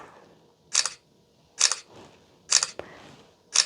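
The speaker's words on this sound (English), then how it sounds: "I'm gonna take some pictures so you can get a real idea of the sound and how long it takes." A single-lens reflex camera fires four times in a quiet room. Each shutter release is a crisp, close mechanical snap with a short clatter, spaced roughly a second apart, with soft handling noise between shots.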